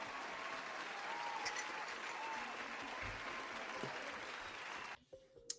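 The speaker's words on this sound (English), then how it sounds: "so clap your hands for that." Applause, a dense even wash of clapping at moderate volume lasting about five seconds before cutting off abruptly.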